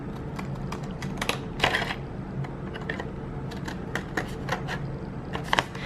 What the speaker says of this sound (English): create the back of this to be kind of scalloped with my scissors here